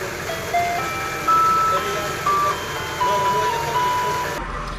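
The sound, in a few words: ice cream truck jingle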